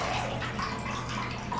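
Water running from a tap into a sink indoors, a steady close splashing rush that stays loud and even throughout, with no talking over it.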